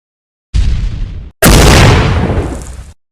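Explosions bring down buildings in a dramatized scene: a heavy boom, a split-second gap, then a second, louder blast that rumbles on for over a second, loud and close.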